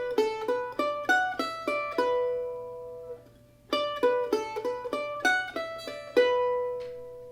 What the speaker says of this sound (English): And then we're going to play this little pentatonic scale idea.